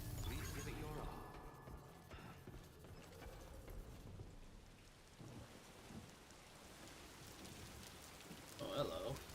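Timefall rain falls steadily in the video game Death Stranding 2, a soft continuous patter under low rumbling and occasional game sounds, with a voice speaking faintly over it.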